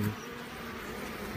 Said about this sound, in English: Gentle bees, very gentle bees.